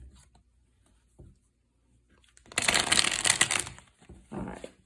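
Quiet room, then a burst of rapid riffling as a tarot reader shuffles cards, followed by a shorter second flurry; close and crisp.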